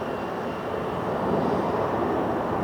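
A jet airliner rolls out along the runway after landing at Phoenix airport, a steady, broad roar of engines and rushing air heard at a distance without any talk.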